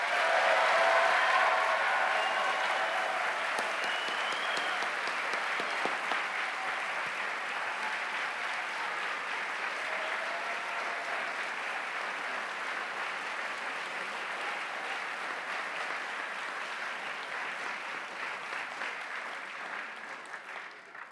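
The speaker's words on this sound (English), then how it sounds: "Let's now have a big round of applause for all our graduates." Sustained applause fills the hall for graduates at a university biomedical engineering graduation ceremony, a dense, even roar of many hands clapping that holds steady for about twenty seconds before tapering slightly at the end.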